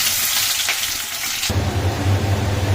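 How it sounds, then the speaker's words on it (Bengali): Chopped onions fry in a pan with cumin, making a loud, close, steady sizzling hiss that shifts abruptly halfway through into a fuller, crackling frying noise. "পেঁয়াজ প্রায় ভাজা ভাজা হয়ে আসছে"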